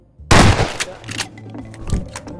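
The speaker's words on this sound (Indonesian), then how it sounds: "Woi, ada tembakan tuh, gue denger." Gunfire in Garry's Mod Prop Hunt: a sharp, loud shot bursts in after a brief silence, followed by a ringing tail and further lighter reports, then another shot near the end.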